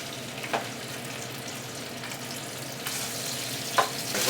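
Seitan pieces fry in oil in a pan, a steady close sizzle broken by a couple of brief clinks and scrapes as they are stirred around.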